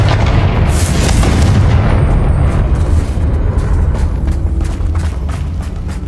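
The Confringo fire-blast spell explodes in Hogwarts Legacy as a loud, sustained booming blast with a heavy low rumble that fades slowly over several seconds.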